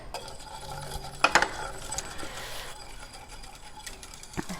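A whisk stirs a thickener mix into hot liquid in a pot for a summer fruit trifle, with a few sharp metallic clicks and scraping near the start, then quieter swishing over a faint background.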